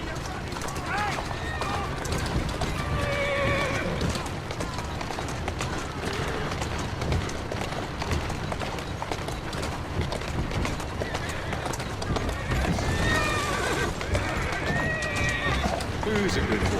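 A horse in the video game Assassin's Creed Syndicate trots with steady clip-clopping hooves and occasional neighs, heard under continuous talking throughout.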